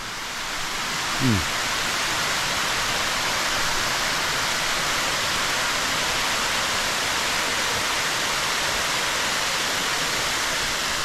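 Steady broadband rush of falling water at Phiang Din waterfall in Nong Hin, Loei, a continuous close roar without breaks, with a brief faint voice-like sound near the start.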